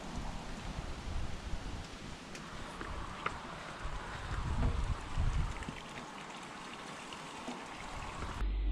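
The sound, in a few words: rain falling outside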